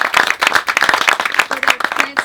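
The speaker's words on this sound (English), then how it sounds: "So let's give Piet and Roy a big hand clap of" An audience claps for two gardeners as a celebration at the close of a garden-project talk. The clapping is dense and steady, with brief voices mixed in near the end.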